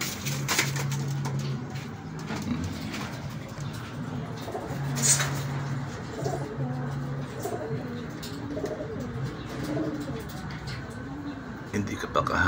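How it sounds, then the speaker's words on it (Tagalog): Racing pigeons cooing in a loft, repeated soft low coos close by, with people talking over them and occasional rustling. "Ganda pa ng ibon oh."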